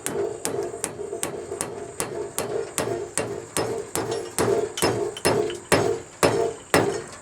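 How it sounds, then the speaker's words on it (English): A small ball peen hammer strikes a piece of steel about twenty times. The blows land in a steady rhythm, each a sharp, ringing clang, loud and close, and they speed up slightly toward the end. "We're just going to use this little ball peen hammer here."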